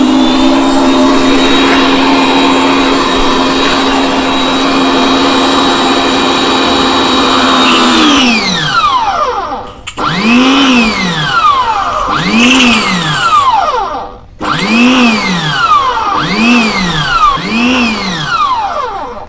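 A Kyodo jet cleaner pressure washer with a faulty automatic cutoff runs steadily, then its motor repeatedly cuts out and restarts in short cycles, a rising and falling whine heard up close without speech.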